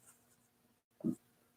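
A pencil writes in a book: faint, soft scratching through a quiet room, ending in one brief, louder scrape.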